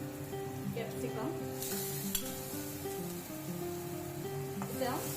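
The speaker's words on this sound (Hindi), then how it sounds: "इसे हम सौते कर लेंगे।" Onion and capsicum sizzle in hot oil in a pan with asafoetida and turmeric, a steady close crackle with occasional stirring clinks, faint talk in the background.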